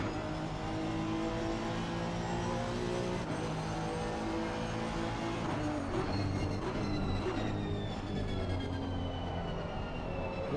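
A Honda race car, heard on board, chases a McLaren around Brands Hatch: a loud, continuous engine drone with steady harmonics, its pitch shifting as the car accelerates and lifts.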